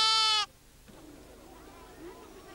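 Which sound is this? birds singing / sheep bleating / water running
sheep bleating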